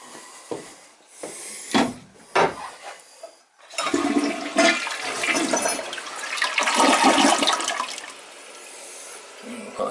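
A Gerber Viper 1.28-gallon toilet flushes: a few short clunks and splashes, then a loud, close rushing swirl of water that drains and refills for several seconds.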